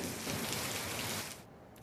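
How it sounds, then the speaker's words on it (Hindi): Heavy unseasonal rain pours down in a dense, steady hiss that fills the air, then cuts off abruptly near the end. "मौसम ने जहां एक बार फिर से करवट ली, तो वहीं निचले इलाकों में जमकर बरसात भी हुई है।"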